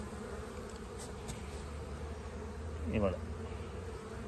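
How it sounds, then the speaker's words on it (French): Steady, close buzzing of many honeybees fanning at a hive forms a dense drone, with a brief spoken phrase near the end. "Et les abeilles, voilà les éventails qu'on a vus l'autre jour."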